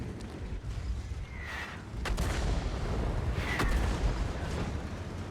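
A Conqueror tank's main gun fires a kill shot in a video game, two sharp booms over a constant rumbling engine and battle ambience.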